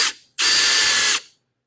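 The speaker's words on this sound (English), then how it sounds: "So this is how you drill a hole." A cordless drill drills a hole, a brief whir, a short pause, then a loud steady high-pitched whine close up that lasts nearly a second before stopping.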